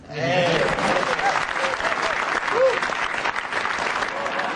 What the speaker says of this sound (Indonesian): sekali lagi tepuk tangan buat 3 komik yang udah tampil